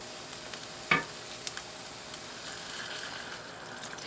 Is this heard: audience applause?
no